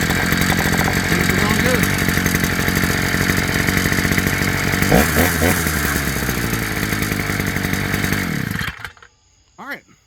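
A Proyama 51.7cc gas brush cutter engine runs loud and close with a raspy two-stroke buzz, revving briefly midway and then cutting off near the end; someone speaks over it.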